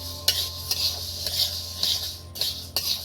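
A spoon stirs eggs in a pan for dhaba-style egg tadka, scraping and clinking against the metal in a run of sharp, separate strokes about every half second, close by with a faint sizzle underneath.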